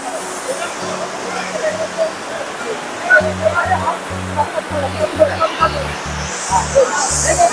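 Water rushing at Elephant Falls waterfall in Shillong, a steady broadband roar throughout, with a person speaking over it and a beeping tone pattern layered on top.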